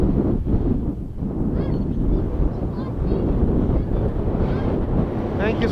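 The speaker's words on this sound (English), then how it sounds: "it's very windy. I can't hear you." Heavy wind buffeting the microphone while plane spotting at Edmonton International Airport, a constant low roaring rumble that swamps everything, with faint voices barely audible underneath.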